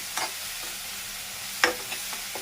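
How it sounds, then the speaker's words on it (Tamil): Onion, green chili, ginger and cumin sautéing in a pan for egg poriyal, a soft steady sizzle broken by a few sharp scraping stirs, close and alone with no talk. "இப்போ இதை நல்லா இதில் வதக்கிட்டு இப்போ இந்த டயத்தில் நம்ம உப்பு போடுறோம்"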